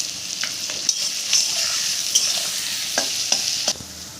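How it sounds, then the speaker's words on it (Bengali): Sliced onions with a little salt fry in a pan for a Bengali chicken curry, sizzling steadily while a utensil stirs and scrapes in repeated close strokes. "পেঁয়াজ ভাজা হয়ে গেছে লাল লাল করে"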